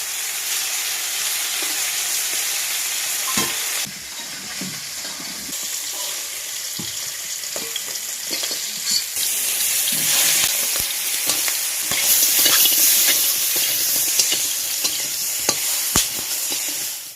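Fish pieces from a village pond fry in hot oil in a pan, giving a loud continuous sizzle and hiss, with scattered stirring clatters and spatter pops close by.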